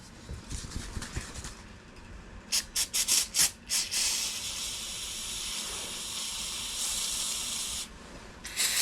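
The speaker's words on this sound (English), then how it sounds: "We're gonna spray some cleaner in there, let it sit for a little bit." Cleaner sprayed onto small carburetor jets pulled from a mini moto, heard as a few short, sharp hissing bursts followed by one long, steady spray and a final brief burst, close and fairly loud.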